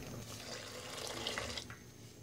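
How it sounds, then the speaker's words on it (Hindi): Cold water is poured into pink Kashmiri tea in a cooking pot, making a short, steady, faint splashing pour that lasts about two seconds. "अब हम इसमें ठंडा पानी डालेंगे।"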